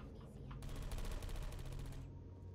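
Gunfire in the game Portal 2, a rapid burst of automatic shots lasting about one and a half seconds, fairly faint, over a low background hum.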